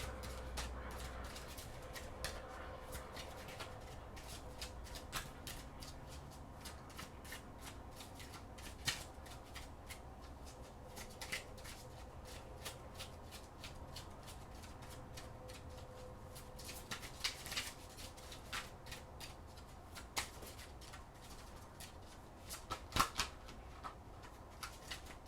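A deck of oracle cards is shuffled by hand in a quiet room, with soft repeated riffling and flicking taps, some sharper snaps standing out, fairly faint and close with no talking.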